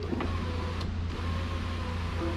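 Power window motor of a 2000 Silverado pickup door, a steady whirring electric drone running continuously, close and moderately loud, with a faint click and hum from the truck underneath.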